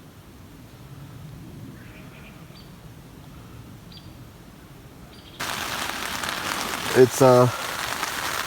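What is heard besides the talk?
rain on tent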